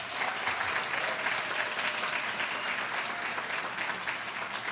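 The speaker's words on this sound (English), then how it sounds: "Now a round of applause for them." A crowd at a small business awards ceremony claps for award winners, a dense, steady wash of applause that stays even and fairly loud throughout, with no talking over it.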